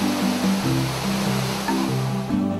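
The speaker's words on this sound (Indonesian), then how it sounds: "Curug Gangsa ini juga sama, cuma bedanya curug ini besar dan lumayan tinggi ya." Curug Gangsa, a large waterfall about 30 metres high, roars as a loud, continuous rushing wash of water heard close up, steady throughout with no speech.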